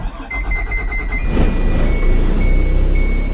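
A school bus low air pressure warning buzzer sounds as a steady high tone running through the clip, over a loud idling diesel engine rumble and some cab clatter.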